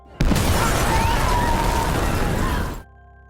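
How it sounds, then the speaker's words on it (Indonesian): A sudden loud blast erupts and roars with a sustained rumbling, crackling wash for over two seconds before cutting off abruptly. "akibat ledakan tersebut, Farah harus menjadi korban."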